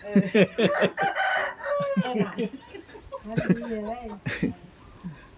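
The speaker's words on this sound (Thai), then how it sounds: "โอ้ไก่ขันดีเนาะ" A rooster crows repeatedly nearby, its calls mixed with clucking fowl, while someone talks loudly over them throughout.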